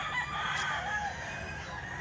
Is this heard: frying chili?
no